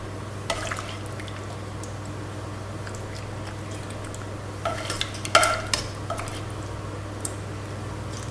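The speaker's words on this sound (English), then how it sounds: "put the remainder of that pasta on top with all that delicious sauce" Saucy rigatoni pasta spooned over the top in a baking dish, giving soft wet stirring and scraping sounds with a few louder clatters and splats midway, over a steady low hum.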